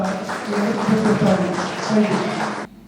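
Crowd applause at a public meeting, steady clapping from many hands for a couple of seconds before cutting off abruptly.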